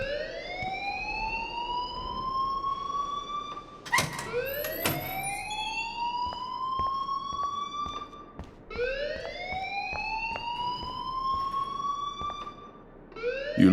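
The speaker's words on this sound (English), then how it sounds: "please turn off that alarm since that's your job" A loud electronic alarm in the video game Life is Strange repeats in rising, whooping sweeps, three long cycles with a few sharp clicks and thuds between them, filling the scene with no talk.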